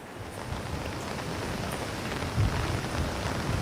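Heavy rain pours steadily in Payyanur, Kannur, a dense, even hiss of falling water with a few slightly stronger splashes and no voices.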